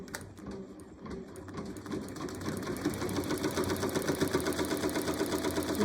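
An embroidery machine stitches a pocket pouch at home, a rapid, steady mechanical rattle of needle strikes that grows louder and denser after a brief lighter start, with no talking.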